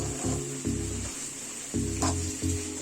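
Egg-and-banana batter for unnakkaya frying in a pan, a steady close sizzle broken by several louder scraping bursts as it is stirred until brown.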